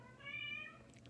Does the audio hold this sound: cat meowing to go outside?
yes